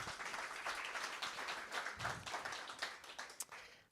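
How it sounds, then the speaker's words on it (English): An audience at a company all-hands meeting gives a round of applause, a steady wash of many hands clapping at moderate level, tapering off toward the end. "That deserves a round of applause, guys."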